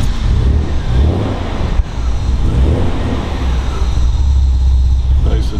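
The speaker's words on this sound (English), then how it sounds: "Nice and throaty little six." A 1966 Austin Healey 3000 MkIII's six-cylinder engine idles with a steady, throaty low rumble close by, running continuously under light wind noise.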